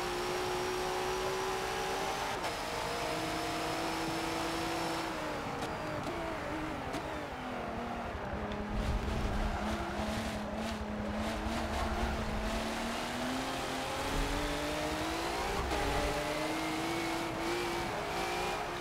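Race cars in the Forza video game as a pack is chased down, engine tones rising and falling through gear changes and revving, with occasional tire squeal, continuous and close, no voices.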